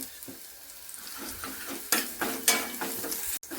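Asafoetida and garlic tempering with chillies sizzling in hot oil for kadhi, a steady crackling fry with a few sharper spattering bursts and clinks of stirring, close and moderately loud.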